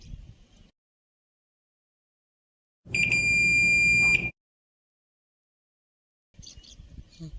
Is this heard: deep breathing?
no